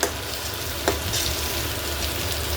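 Potato and Malabar spinach frying in pure mustard oil, a loud, close, continuous sizzle with a couple of sharper crackles and stirring clatters.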